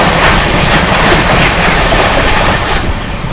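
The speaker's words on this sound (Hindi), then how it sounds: "सामने से आ रही है आप लोगों की भुवनेश्वर से चलकर नई दिल्ली की ओर जाने वाली तेजस राजधानी एक्सप्रेस" The Bhubaneswar Tejas Rajdhani Express, running in LHB coaches toward New Delhi, thunders loudly and close by as it approaches, giving a dense, continuous roar with a rhythmic rumble of wheels on rails throughout.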